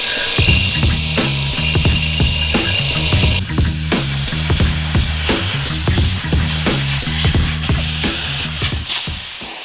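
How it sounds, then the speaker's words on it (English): A power drill bores holes for a turbo manifold on a Honda Civic with a Y8 manifold swap, running loud and continuous with a rhythmic chatter throughout, no voices. "we just finished up drilling the holes"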